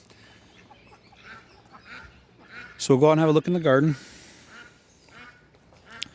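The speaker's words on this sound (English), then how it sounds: "I'm competing with the ducks right now." Ducks quack loudly in a garden, a short cluster of harsh calls about a second long, nearby, with a person talking softly before and after.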